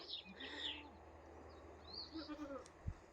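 A Kiko or Boer goat kid on a goat farm lets out faint, thin bleats against a quiet outdoor background, with soft chirps and a brief low knock near the end.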